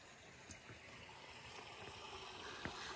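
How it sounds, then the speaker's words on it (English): Water rushes steadily somewhere near a hiking trail on the Appalachian Trail, a faint, continuous flowing wash with no talking over it. "I hear a sound of water"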